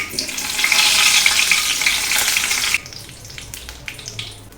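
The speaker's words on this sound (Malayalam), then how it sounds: "കടുക് പൊട്ടിക്കഴിഞ്ഞ് വേപ്പില ഇടുക." Curry leaves dropped into hot oil right after mustard seeds have popped, during the cooking of a mushroom mezhukkupuratti, give a loud, dense sizzle that crackles for a few seconds, then drops to a softer frying hiss with a few pops.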